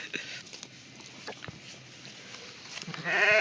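Sheep bleat several times, some near and some farther off, with a louder bleating burst at the end over outdoor ambience.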